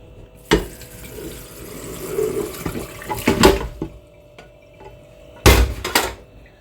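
Cooked spaghetti and water are poured into a large sieve in a kitchen, giving a low watery rush with a few sharp clattering splashes close by.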